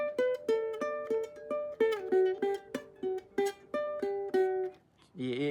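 Guitar plays a riff from a song, a steady run of clear, evenly spaced picked notes, close and alone, ending in a short strummed chord.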